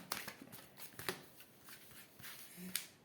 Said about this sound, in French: nous allons commencer notre tirage à 3 cartes